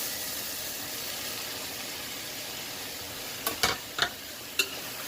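Potatoes, carrots and mushrooms with onion and tomato sizzle in a pan under a steady hiss of frying, with a few sharp clinks of a stirring spoon near the end.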